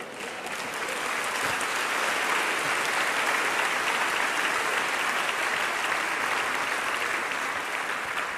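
A church congregation breaks into sustained applause after a sermon, the clapping swelling in the first second and then holding as a thick, even roar of many hands for several seconds.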